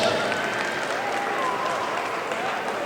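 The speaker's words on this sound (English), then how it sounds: "Come on, give yourselves a round of applause." A graduating class of 2022 gives itself a round of applause at a school assembly, a dense, steady wash of many hands clapping throughout, with a faint voice underneath.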